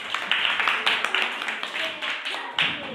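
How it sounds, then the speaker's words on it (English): A class of children clapping for a group of classmates during a multigrade classroom activity: a short run of quick, uneven claps from a small group, close by, with a voice briefly audible. "Clap for second group."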